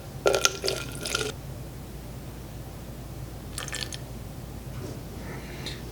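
Ethyl alcohol is poured into a measuring container in two short splashy bursts, the first about a second long and the second briefer, with quiet room tone between them.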